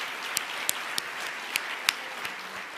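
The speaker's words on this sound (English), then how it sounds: "So I think that deserves a round of applause." Scattered applause at a charity gala, a few distinct claps over a soft, thin patter of hands, brief and fairly distant.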